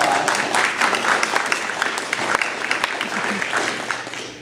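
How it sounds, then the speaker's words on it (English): Steady applause from an audience at a community membership meeting, honoring the earlier speakers; dense, even clapping goes on throughout and fades slightly toward the end. "So we just give all the previous talks a round of applause."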